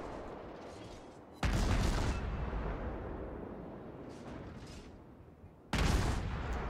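Naval gunfire in World of Warships from the battleship New York, with two loud booming salvos at the start and near the end, each followed by a long rumbling decay.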